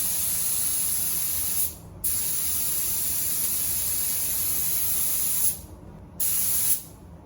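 A paint spray gun sprays epoxy inside a paint booth, a loud close continuous hiss that cuts off briefly two times before resuming.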